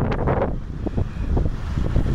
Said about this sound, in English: Boy, it's windy out here today.